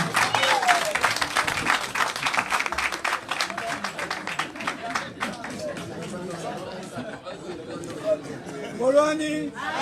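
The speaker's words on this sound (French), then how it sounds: "Sous vos acclamations, s'il vous plaît." Crowd at an outdoor political talk applauds and cheers for a speaker, with dense clapping strongest early, then thinning into chatter and a voice over the noise.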